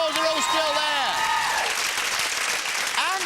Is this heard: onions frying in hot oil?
no